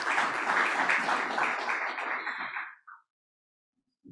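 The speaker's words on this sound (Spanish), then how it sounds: "Damos un aplauso." An audience applauds a panelist at a health policy research event: dense, steady clapping from many hands for nearly three seconds, then it quickly dies away into silence.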